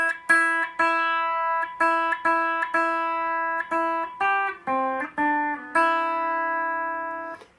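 On a guitar's first and second strings, the opening of Jingle Bells is picked as a steady run of clear, ringing single notes, repeated in short groups before ending on a longer held note, close and unaccompanied.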